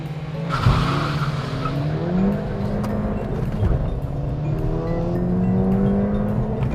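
A 182-horsepower manual Ford Fiesta ST hot hatchback launches from a standstill, the engine roaring loud and near as revs climb through rising gear pulls, with tire squeal at the start.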